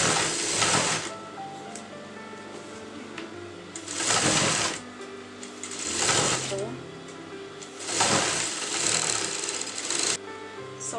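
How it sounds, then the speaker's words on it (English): A sewing machine stitches the armhole of a lined kurta, joining lining and main fabric in three loud bursts of rapid whirring, separated by brief quieter pauses. "you're going to sew your armhole, matching the lining and the main fabric together"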